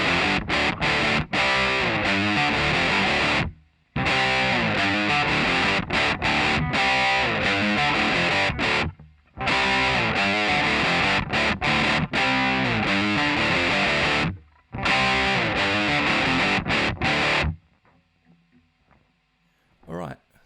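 Distorted electric guitar in drop D playing a verse riff, loud chugging palm-muted phrases in repeated bursts separated by short gaps, ending with a quiet ringing tail.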